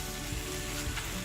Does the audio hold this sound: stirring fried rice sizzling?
yes